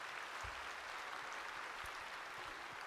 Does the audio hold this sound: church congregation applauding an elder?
yes